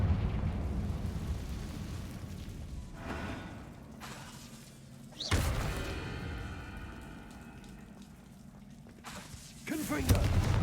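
Confringo explosive spell blast in the video game Hogwarts Legacy: one sharp, loud burst mid-way that fades into a rumbling tail, with a second swelling blast near the end over low ambient rumble and faint voice.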